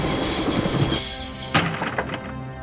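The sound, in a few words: train running in the video game Broken Sword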